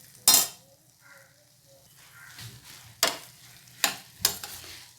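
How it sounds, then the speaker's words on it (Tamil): Cooked macaroni is mixed into red sauce in a pan, with a few sharp metal spoon clanks against the pan spread over the span. A soft sizzle and quiet scraping stir run between the hits. "சேர்த்து நல்லா கலந்துக்கோங்க."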